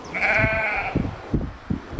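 Sheep on a remote island north of the Arctic Circle give a drawn-out, wavering bleat up close, followed by soft thumps and light wind noise.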